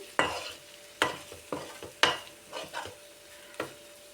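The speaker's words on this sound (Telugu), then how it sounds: "కారం వేసిన తర్వాత ఇలా బాగా కలపాలండి." Chili powder is being stirred into fried masala in a pan, with a spoon knocking against the pot roughly every half second, each scrape ringing out above a steady low sizzle.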